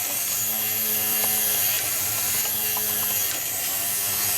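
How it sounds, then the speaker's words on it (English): A weak little electric motor in a Romco Star Trek USS Enterprise model buzzes steadily and thinly, a close, continuous whine with no talking. "I think the motor's that poor that it doesn't actually want to go anywhere"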